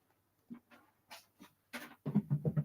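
Two dogs growling at each other indoors, with short low grumbles at first, then a run of closer, louder rhythmic growls and snarls at the end.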